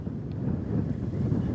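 Strong wind gusts buffet the microphone near a wildfire spreading toward a petrochemical basin, a steady low rushing roar that swells and eases without pause.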